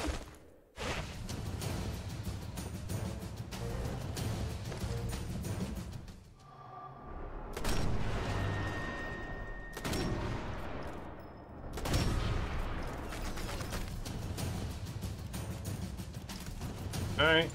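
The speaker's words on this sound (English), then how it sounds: "There's guns behind me too! Large machine guns!" Sustained heavy machine-gun fire in Sniper Elite 4, dense rapid bursts that run almost continuously with a couple of brief pauses, loud and close, with a few louder impacts mixed in.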